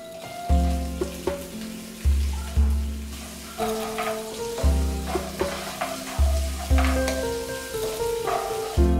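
Mustard seeds, dal, chopped ginger and garlic frying in hot oil, with a bright sizzle and pops over a rhythmic series of loud, low scraping stirs repeating about every second.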